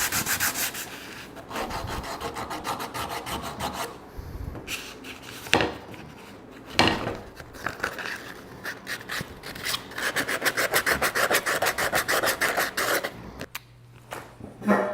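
Steady rasping strokes of hand sanding on an oak wood fidget spinner, close and continuous with brief pauses, alone without talk.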